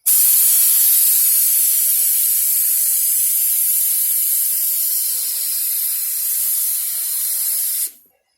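A paint spray gun fitted with an orange filter and air hose sprays a car bumper in one long, continuous loud hiss that stops abruptly at the end.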